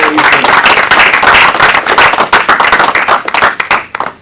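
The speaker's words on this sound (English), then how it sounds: "So I think we should take a moment, a round of applause to Elsie for this environment that" An audience at a film festival filmmakers' brunch claps in dense, lively applause close by, tapering into a few scattered claps before stopping.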